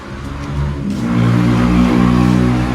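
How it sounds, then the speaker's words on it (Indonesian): A 2006 Toyota Yaris S Limited engine revs hard and loud, the roar climbing and holding steady at close range with a deep, rumbling tone. "Terus suara motor kencang banget."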